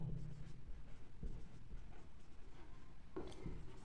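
Chalk or marker scratches and taps across a classroom board as a teacher writes, steady faint strokes with a few sharper knocks, close and continuous with no speech.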